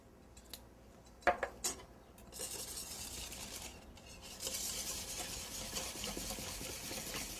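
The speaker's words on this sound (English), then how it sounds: "I'm just going to beat them into a bowl first together" An egg, heavy whipping cream and vanilla being beaten together in a bowl, with repeated light scraping and tapping of a utensil against the bowl, close and steady after a few sharper clinks.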